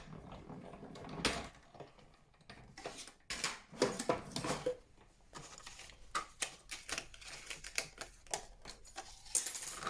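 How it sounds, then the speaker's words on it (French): Paper card being cut along a window outline for an illuminated Christmas window card, giving a run of close, crisp snips and clicks in irregular bursts, with no talking. "on va tout simplement venir prendre le contour de la fenêtre et le découper également 3 fois"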